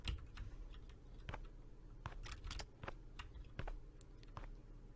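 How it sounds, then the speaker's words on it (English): Rapid key strikes of a typewriter in a video game's demo, a quick irregular patter of close clicks over a low steady background hum, with no talk. "There's typewriter."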